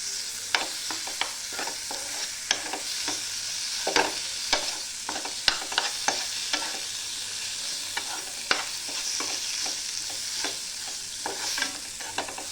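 Tomatoes fry along with a potato curry in a pan, a soft continuous sizzle with frequent sharp taps and scrapes of a spoon stirring, no voices over it.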